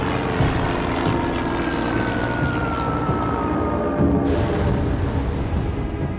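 Propeller aircraft drone steadily overhead, a loud continuous engine roar with a slowly sliding tone, evoking Allied bombers over Berlin.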